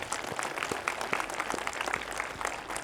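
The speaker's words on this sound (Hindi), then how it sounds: "बहुत ताली बजाई इनके लिए।" An audience at a Republic Day gathering claps steadily throughout, a dense, even patter of many hands at moderate distance with no break.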